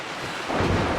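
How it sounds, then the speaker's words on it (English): Thunderstorm with rain in the Rise of the Tomb Raider video game: a brief, steady rumbling wash that swells louder midway, with no speech. "One heck of a thunderstorm outside tonight."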